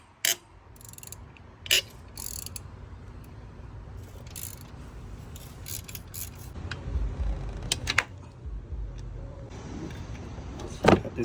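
Ratchet wrench working on the 12mm alternator bolts of a Subaru Outback 2.5L in the engine bay: scattered clicks, metallic knocks and creaks over a low rumble, close and uneven, with no talk.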